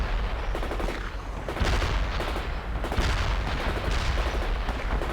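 Rocket launchers fire in the war strategy game World in Conflict: a loud, dense barrage of overlapping booms and crackling blasts rolls on without pause, with no voices.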